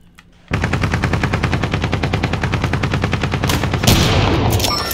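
Sustained automatic gunfire in a video game rattles in a rapid, even burst for several seconds after a quiet start, close and loud, ending in a rougher blast of noise.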